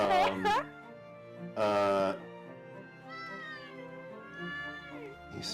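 An unhappy cat meows repeatedly and loudly up close: sharp early cries, then drawn-out, wavering complaints spread over several seconds.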